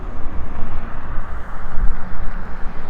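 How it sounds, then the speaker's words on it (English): Wind buffets the microphone in a continuous low rumble with gusty swells on a street in Saskatoon, no voices present. "Windy though."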